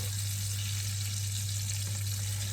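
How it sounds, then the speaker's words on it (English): Butter and olive oil fry in a hot frying pan with a constant, dense crackling sizzle, heard close up and alone with no voices, over a low steady hum. "Hot frying pan here. A generous dollop of butter. And also a little bit of olive oil."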